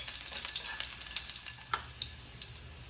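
Garlic sautéing in a pan for pork and beef giniling, a soft, steady sizzle with scattered light crackles and spits, close by and without voices.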